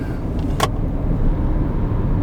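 Peugeot e-208 electric car accelerating at full throttle in Sport mode from 80 km/h, a steady close interior drone of road and motor noise with one brief click early on, no talking.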